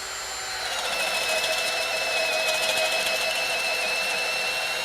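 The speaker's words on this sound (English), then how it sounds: "So we'll definitely take that 1 1/2-inch spade bit through this pressure treated, no problem at all." A Ryobi drill spins a 1 1/2-inch spade bit through pressure-treated wood, a steady high whine that rises after a moment and holds under load with a rough grinding texture.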